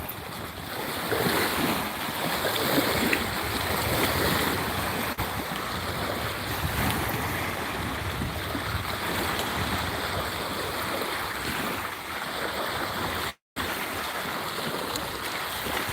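Small ocean waves washing ashore, a continuous close rushing surf with heavy wind buffeting the microphone throughout and one brief dropout near the end.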